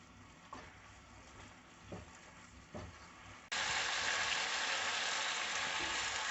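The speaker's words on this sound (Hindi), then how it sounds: "आंच को तेज़ करेंगे और इसका पानी खुश्क कर लेंगे।" Tandoori chicken frying in a pan over high heat, cooking off its liquid: a steady soft sizzle with a few stirring scrapes jumps to a loud, dense, continuous hiss partway through as the heat catches.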